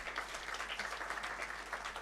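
Faint, steady applause from a convocation audience for faculty members, a soft distant wash of many hands clapping with no voices on top.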